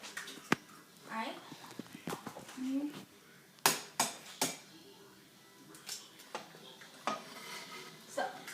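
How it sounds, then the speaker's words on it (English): Eggs tapped and cracked against a bowl while making scrambled eggs, giving a few sharp knocks and clinks of shell on the bowl at close range, with a person talking over and between them. "I'm going to crack 2 more eggs"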